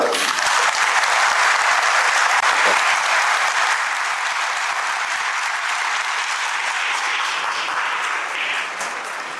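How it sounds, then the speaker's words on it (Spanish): A congregation in a Catholic parish church in the diocese of Orizaba gives loud, dense, sustained applause for a welcome. The clapping stays steady for several seconds, then eases slightly toward the end. "lo recibimos gratamente con un fuerte aplauso."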